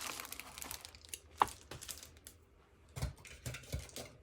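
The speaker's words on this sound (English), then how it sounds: "let me clear away some of my packing material" Packing material being crumpled and cleared away while unboxing fountain pens and ink, giving soft scattered crinkles and a few sharper crackles close by, with no talking.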